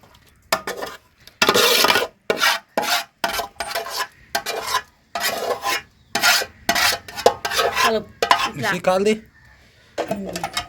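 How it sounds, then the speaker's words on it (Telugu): Spice powder is worked into cooked rice for pulihora, giving repeated scraping, rubbing strokes of a utensil against a pot in irregular close bursts with short pauses between them. "ఇట్లా అన్నంలోకి వేసిన తర్వాత ఇంకా కలుపుకుందామండి."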